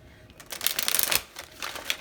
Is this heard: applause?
no